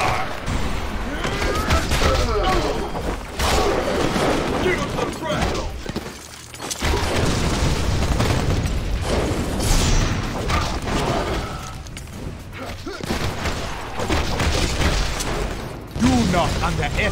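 Grenade explosions and heavy combat in the video game Marvel: Ultimate Alliance 2, with repeated booms, crashing impacts and gunfire-like bursts layered under game music and voices, loud and continuous with a brief dip midway.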